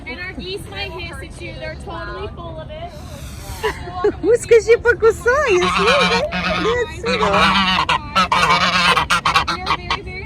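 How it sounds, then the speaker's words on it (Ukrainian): Geese honk and cackle repeatedly, loud and close, on a farm, with a busy farmyard chorus building in the second half while people talk faintly beneath. "І гуси гельгочуть"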